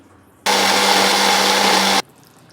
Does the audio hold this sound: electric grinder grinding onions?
yes